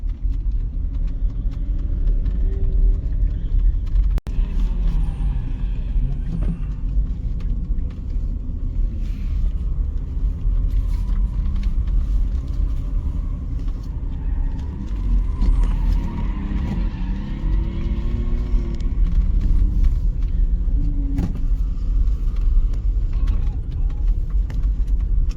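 Cars lined up at a race track, idling and rumbling in a heavy, continuous low drone, with engines rising and falling in pitch as people talk faintly in the background.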